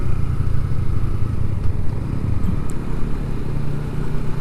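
A Yamaha MX King 150cc five-speed motorcycle being ridden, its mid-pitched engine droning steadily and close with a rough low rumble and some road and wind noise throughout.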